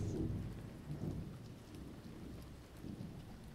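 A thunderstorm pours steady rain, with low rumbles of thunder rolling underneath and no voices.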